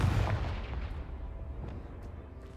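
Confringo fire spell blast in the Hogwarts Legacy video game, a single heavy booming explosion with a deep low rumble that decays over a couple of seconds.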